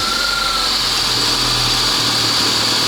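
A car engine with a faulty clutch idles steadily nearby with a constant low hum and a high whine above it, and no one speaks.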